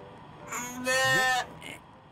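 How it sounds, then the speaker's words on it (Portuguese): A sheep in the video game Just Die Already lets out a single clear, wavering bleat, loud and close, with a fainter bleat just before and a short one after. "É uma ovelha!"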